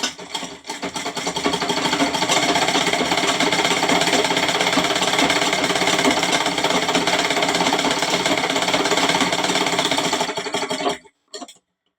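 Sewing machine stitching a handkerchief hem, a loud, steady mechanical whirr running continuously for about ten seconds after a few brief starts, then stopping abruptly.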